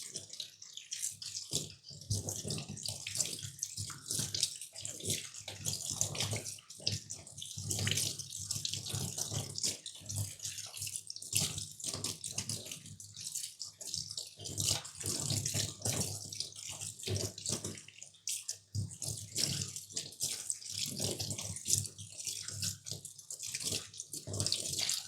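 Tap water runs steadily over a hair piece (hair system) being rinsed clean in a sink. The strong, continuous splashing flow carries on without pause, with no voices.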